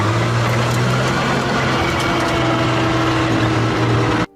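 A tank engine runs with a steady, droning mechanical hum and a low tonal rumble at constant loudness, close and continuous, then cutting off abruptly at the end.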